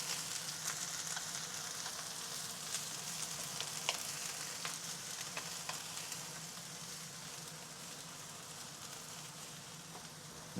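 Eggs frying in a pan with bean sprouts, a steady close sizzle and crackle with scattered pops, no talking.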